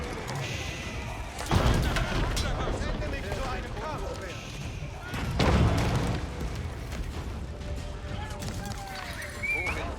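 Cannons fire in the strategy game Age of Empires 4, two heavy thuds some seconds apart amid battle noise and horse sounds, under steady commentary.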